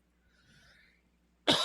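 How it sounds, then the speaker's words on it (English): A single sharp cough bursts out after a moment of near silence with faint breathing, close and loud, with no talking. "It's a cough."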